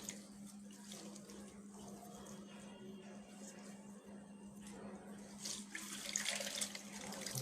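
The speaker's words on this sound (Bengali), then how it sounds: "জামাটা আমি একটু ধুয়ে ফেলবো এখন।" Water running from a tap over a freshly dyed dress being rinsed by hand, a steady faint splashing stream with a low hum beneath, growing louder toward the end.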